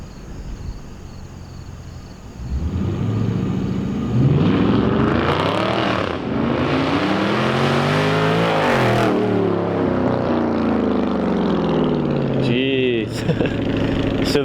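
A Dodge Charger ScatPack launching from a dig into a burnout in a parking lot, the engine revving hard through rising and falling sweeps, loud and echoing, with a voice talking over it.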